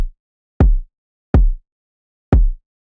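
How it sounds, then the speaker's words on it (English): Three deep, booming kick drum body hits, each a short low thump with a quick decay, spaced evenly apart in an electronic dance track. "One sample is for the body of the kick, and it sounds like this."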